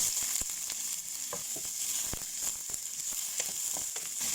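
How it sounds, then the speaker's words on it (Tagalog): Garlic fries in hot olive oil in a pan, a steady close crackling sizzle with scattered sharp pops and light stirring sounds, no talking. "Una, maglagay tayo ng olive oil. Lagay ang bawang."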